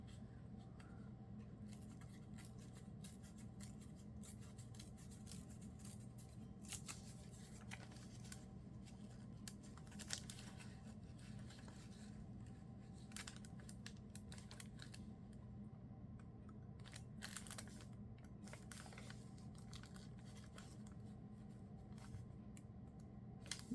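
Scissors trim a small paper butterfly for a layered envelope pocket card, making faint scattered snips and paper rustles over a steady low background hum, quiet and close.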